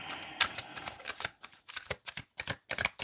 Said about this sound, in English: Let's cut the deck.